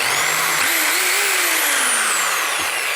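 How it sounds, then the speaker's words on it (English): Bosch GSB 600 impact drill fitted with a wood drill bit, running in plain drill mode with a loud, close whine whose pitch shifts and rises as the speed changes, heard alone. "let's see how it works with a wood drill bit. So check the mode, switch this on."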